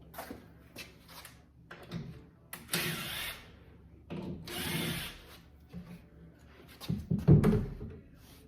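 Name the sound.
power drill taking screws out of garage wall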